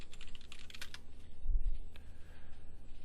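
Someone types a username and password on a computer keyboard: a quick, uneven run of soft plastic key clicks, close and fairly quiet, with a few heavier thumps midway and no speech.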